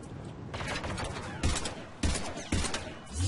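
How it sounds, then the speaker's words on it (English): Machine pistol fire in the Mass Effect 3 multiplayer game, loud rapid bursts of shots crackling almost continuously, with several heavier thumping impacts spaced about a second apart. "This machine pistol is amazing."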